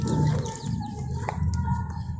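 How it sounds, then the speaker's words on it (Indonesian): Pigeons kept by local hobbyists coo and chirp faintly outdoors in a riverside neighbourhood, their calls low and intermittent beneath a steady hum of ambient street noise. "Ada yang main merpati."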